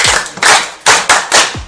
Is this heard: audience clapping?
yes